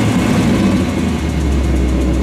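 A 1965 AMC Rambler Marlin's 327 engine runs steadily with a deep, continuous rumble, holding a low throaty idle that swells slightly as if being revved, close and loud.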